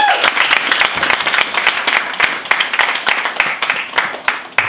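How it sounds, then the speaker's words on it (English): An audience at a live evening stage show applauds, dense clapping filling the room steadily and loudly for several seconds. "Round of applause for them."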